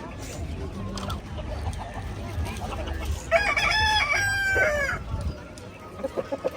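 A rooster crows loudly partway through, a long harmonic cock-a-doodle-doo over low background noise, with a few clucks and voices around it, at a flea market in Texas.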